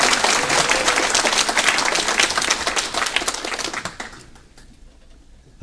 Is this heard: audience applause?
yes